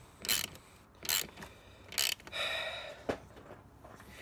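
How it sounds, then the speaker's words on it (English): A 10mm wrench tightening a car battery cable clamp ratchets in short, close bursts, with several distinct clicking strokes separated by brief pauses. "all I'm doing is taking the 10mm, tightening this side like I tightened the negative cable"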